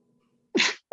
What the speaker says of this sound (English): Excuse me for the sneeze, you guys